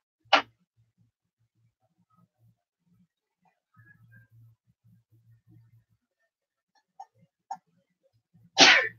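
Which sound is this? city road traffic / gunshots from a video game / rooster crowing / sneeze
sneeze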